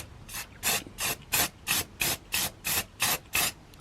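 Nine short hissing aerosol spray bursts onto a Subaru Impreza STI air filter in a steady rhythm, each about a quarter second, close up outdoors with brief quiet gaps between them.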